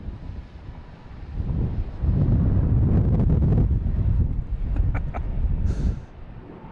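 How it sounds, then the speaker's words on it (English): Gusts of wind batter an outdoor microphone at a plane-spotting spot by Boston Logan Airport, a low rumbling buffet that swells loud for a few seconds and then eases off, with no talking. "It's a gust of wind blowing my stuff over."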